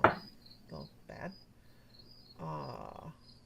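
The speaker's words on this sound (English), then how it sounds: "yes, that's crickets" Crickets chirp outside in the countryside, a steady faint high trill running throughout, with a few bursts of talk over it.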